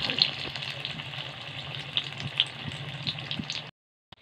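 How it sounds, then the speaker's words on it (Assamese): Chicken shami kebabs fry in shallow oil in a small kadai over a high gas flame, a steady close crackling sizzle with scattered sharp pops that cuts off abruptly near the end. "যিহেতু কেৰাহীখন সৰু আৰু তেলটো কমেই আছে, সেইকাৰণে আমি কাবাব বেছি নিদিওঁ, তিনিটাকৈহে ভাজিম"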